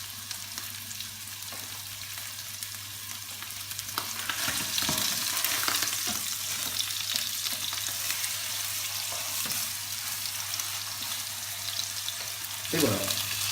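Beef sizzling as it sears in a pan for a puff-pastry beef dish, a steady continuous frying hiss that swells after a few seconds, with faint stirring and utensil clinks and a low steady hum underneath.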